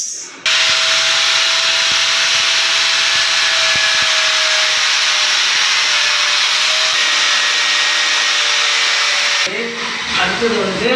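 Power tool cuts pipe for a closet installation, a loud continuous high-pitched whine running steadily for several seconds and then stopping abruptly, followed by brief clattering handling noises.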